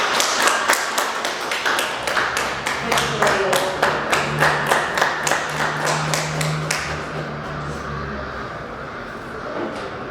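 Audience claps for a speaker at an ETE Talks event, a fairly small group clapping in a rapid, rhythmic pattern that carries on steadily, then tapers off into quiet near the end.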